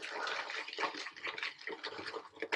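Water poured into a shaving bowl, a brief splashy trickle lasting a couple of seconds, close and fairly quiet, without talk over it.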